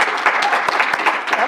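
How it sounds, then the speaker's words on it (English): Audience at an annual awards and installation ceremony applauding a board member, dense continuous clapping, loud and close, with voices underneath. "Please join me in giving a warm round of applause for one of our board members, Patricia Carey"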